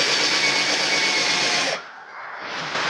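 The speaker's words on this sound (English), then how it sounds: "I have to start out with a small drill because the corded one doesn't have variable speed." A small handheld drill runs steadily on a Honda Transalp motorcycle during a wiring harness rebuild. Its loud continuous whine cuts off abruptly, then a quieter residual hum follows.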